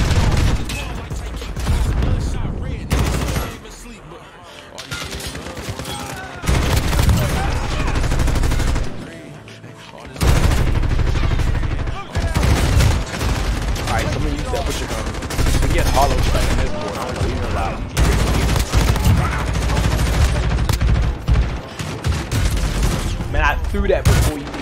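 Call of Duty Modern Warfare gunfire arrives in loud bursts of rapid automatic shots with short pauses between volleys. Game sounds and booms run close and dense, with a voice talking over the action.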